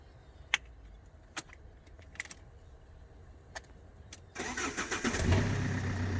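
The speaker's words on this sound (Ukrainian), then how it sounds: "Машинка завелась." A Fiat Doblo, its lock just opened with picks, has its engine started: a few sharp key clicks and jingles, then the starter cranks and the engine catches into a steady close idle.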